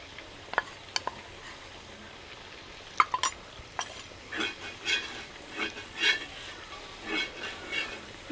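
Beef fry masala with pepper powder being stirred in a pan: a few sharp metal clicks and scrapes early on, then a run of soft, rhythmic stirring swishes over a faint sizzle, close and fairly quiet.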